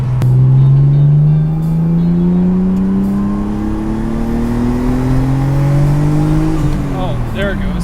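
Turbocharged Honda Civic fitted with a small RB20 turbo accelerating, its engine note rising steadily through a long pull before easing off near the end, with people talking over it.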